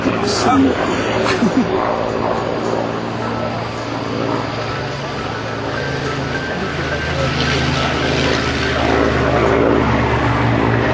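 A Grumman Hellcat propeller warplane roars overhead at an air show, a loud, continuous engine drone that swells and fades gradually while a voice talks over it.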